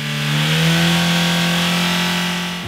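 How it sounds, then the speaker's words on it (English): A Volkswagen Mark III Jetta with a 2-liter ABA engine, drained of oil, revs up into a loud, close whine with a rising pitch, holds, then eases off. "We're gonna see how long this engine will run without oil in it."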